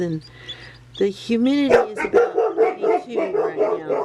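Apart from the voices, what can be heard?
dog barking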